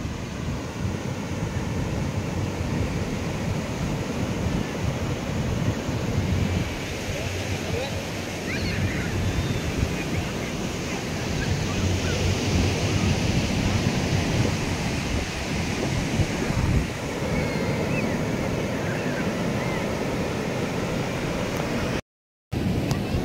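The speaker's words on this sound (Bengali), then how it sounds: "সমুদ্রের যেমনি গর্জন সেমনি আসছে ঢেউ" Roaring sea waves at Chandrabhaga beach near Puri make a steady, loud, broadband surf wash, continuous and close, with wind buffeting the microphone throughout.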